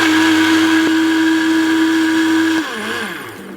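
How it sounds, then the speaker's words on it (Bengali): A kitchen blender runs with a loud, steady motor whine, then switches off and spins down into a fading whir near the end. "20 থেকে 30 সেকেন্ড চালিয়ে বন্ধ করে আবার চালালে ব্লেন্ডারটা ভালো থাকে"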